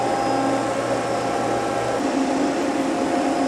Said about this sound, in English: Lube pump.